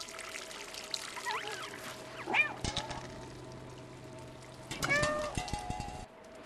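In the video game Stray, a cat gives several short, wavering meows spread across a few seconds, with faint trickling and game ambience around them.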